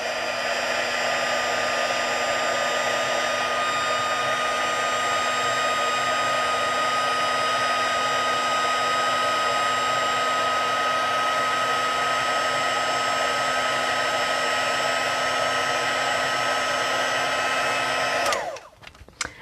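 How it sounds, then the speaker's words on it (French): A heat tool blows steadily while heating a handmade stamped card, a constant whirring hum with a high whine held unchanged for about eighteen seconds before it switches off. "Je vais chauffer, ça va faire un peu de bruit, ne vous inquiétez pas."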